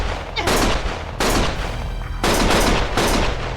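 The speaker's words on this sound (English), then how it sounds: "Stop shooting!" Dense bursts of automatic gunfire in the video game The Dark Detective: Yagami, three loud rattling volleys separated by short gaps, close and harsh with no talk.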